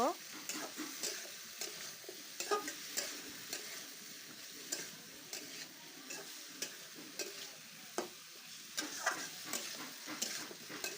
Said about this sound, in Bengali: এখন ধুয়ে রাখা সবজিগুলো আমি ছেড়ে দিলাম এটা আমি একটু ভালোভাবে নেড়ে চেড়ে নিব